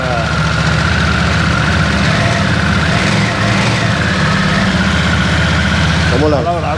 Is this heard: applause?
no